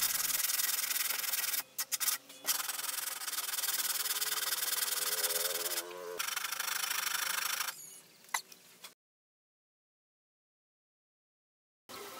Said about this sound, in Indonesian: Rapikan dan kemudian diamplas.